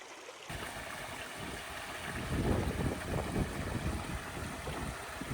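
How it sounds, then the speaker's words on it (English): Water flowing through a quiet valley stream in Australia's Red Centre near Uluru, a soft continuous rushing and burbling that swells midway, heard alone with some outdoor wind noise. "listen to the quiet sound of the water flowing through it"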